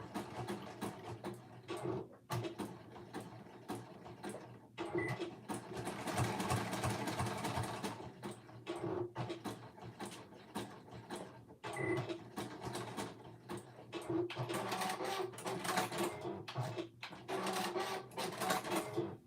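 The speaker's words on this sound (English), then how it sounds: "I'm going to sew that at a 3/8 seam allowance" A sewing machine stitches the short ends of a sleeve together at a 3/8 seam allowance for a ringer T-shirt. It runs in a close, steady whirring chatter, with several brief pauses and restarts along the seam.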